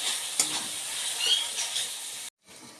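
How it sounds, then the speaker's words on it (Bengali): Fish fat fries in a pan with a steady loud sizzle, broken by a sharp stirring scrape early on, before cutting off abruptly near the end. "দিয়ে ভালো করে নাড়া দিচ্ছি, ভালো করে একটু নাড়া দেবো।"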